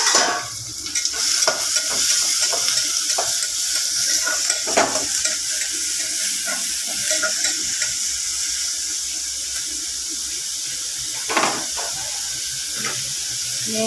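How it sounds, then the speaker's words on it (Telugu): Onions tossed into hot oil for a chicken curry sizzle in a pan, giving a loud, close, continuous frying hiss that slowly settles, broken by occasional clinks and scrapes of a spoon. No one speaks. "ఉల్లిపాయలు వేస్తున్నాను. గుస్తుమంటుందండి ఉల్లిపాయలు వేస్తేనే"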